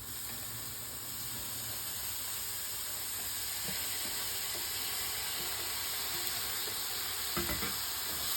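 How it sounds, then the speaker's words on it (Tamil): Chopped vegetables sauté with onion and garlic in a pan, producing a constant loud, even sizzling hiss with occasional soft stirring knocks. "இப்போ நம்ம சேர்த்த வெங்காயமும் பூண்டும் நல்லா வதங்கிட்டு நம்ம கட் பண்ணி வச்சுருந்த வெஜிடபிள்ஸ்லாம் சேர்த்துக்கலாம்."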